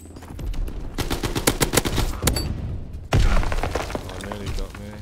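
Rapid gunfire from a World War II era weapon in the shooter Call of Duty WW2 during a multiplayer hardpoint match, loud bursts and impacts layered with game sounds and a player speaking over it.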